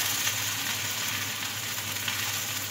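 Okra (bhindi) frying in a pan with a continuous, even sizzle that stays steady and close for the whole stretch, with no talking over it.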